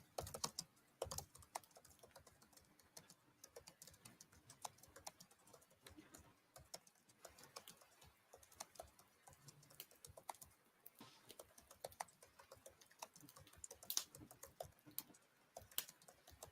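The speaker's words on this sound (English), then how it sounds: "I'm gonna put some typing sounds." Steady computer keyboard typing clatters on for over sixteen seconds, with quick uneven keystrokes and occasional sharper key hits, close and fairly quiet, added as a background sound effect during a live storytelling session.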